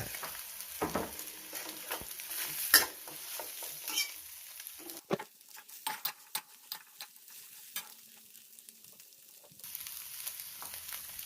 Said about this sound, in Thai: รอไข่เซ็ตตัวแล้วก็คนนะครับ